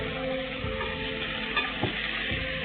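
Onions frying in oil, a continuous close sizzle with a few soft stirring scrapes, no voices.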